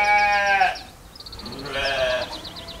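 Sheep bleat in two separate calls, each a loud, wavering, nasal cry with a short quiet gap between them, heard close up.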